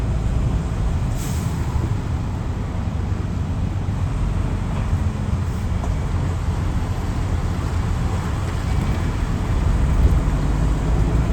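A truck rolls through the Port of Long Beach with a loud, continuous engine and road rumble, and an air-brake hiss rises briefly near the start.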